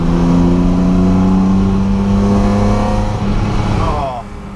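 A Datsun 280Z hot rod engine revs hard with a loud, sustained, metallic race-car-like roar that holds steady for several seconds before dropping away at the end.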